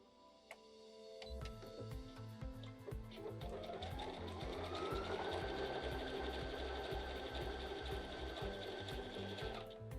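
A Brother BQ950 sewing and quilting machine running an overcasting stitch along a fabric edge, a fast even mechanical whir and clatter that starts after a second and keeps going steadily, with a voice talking faintly over it.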